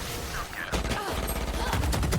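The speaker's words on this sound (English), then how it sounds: "Swarm grenade out." A swarm grenade goes off in a competitive Rainbow Six-style video game, its crackling bursts of rapid popping detonations and gunfire loud and dense over game noise, with players chattering underneath.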